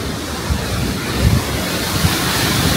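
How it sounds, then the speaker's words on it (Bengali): Strong wind roars across the microphone in Greenwich, London, a dense, loud, continuous rumble and rush with small gusting swells and no talking. "প্রচণ্ড বাতাস হচ্ছে"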